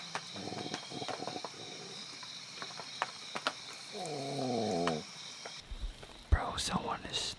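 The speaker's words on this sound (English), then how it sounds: "Someone is snoring so hard, it's literally vibrating the ground." A person snores heavily while camping, with a rough, rumbling snore rising mid-clip over a noisy night background and a few other faint sounds.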